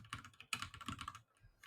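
Fingers type on a computer keyboard during a coding session, with quick bursts of clacking keys, a short pause and then a few more strokes, close and fairly quiet.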